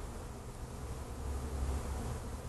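A swarm of bees hanging in a tree hums with a faint, steady, low buzz and no other distinct sounds.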